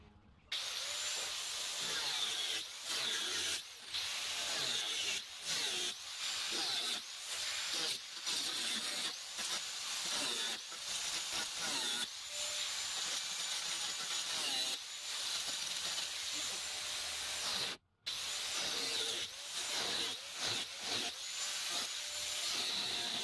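A power tool cuts through the rear wheel arch panel of a Volkswagen Golf 2 VR6, giving a loud, steady, high-pitched grinding whine that runs almost continuously, with short stutters and one brief pause near the end.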